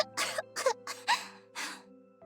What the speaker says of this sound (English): coughing hard and sputtering up mouthfuls of seawater